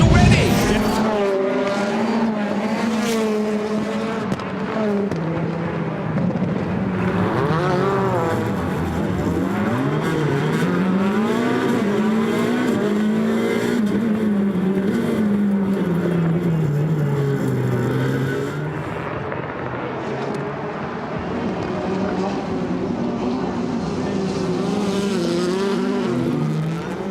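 Rallycross race cars, including a Hyundai, roar continuously at close range with high-revving engines and tire squeal, while a commentator talks over the racing throughout.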